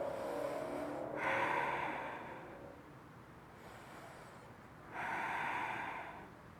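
Slow, deep breaths during a restorative yoga bridge pose, two long airy exhales through the nose with quiet inhales between, close and alone without talk.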